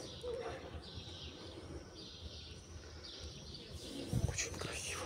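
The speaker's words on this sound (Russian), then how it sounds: "Птички поют, слышите?" Birds sing at sunset outdoors, repeating short high chirping phrases at a moderate distance against soft background noise, with a brief louder rustle or bump near the end.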